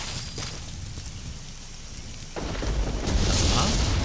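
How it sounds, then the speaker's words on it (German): Storm ambience in Metal Gear Solid V: The Phantom Pain, a steady hiss of rain joined by a deep rolling rumble of thunder that swells louder toward the end. "Ach, ein Gewitter."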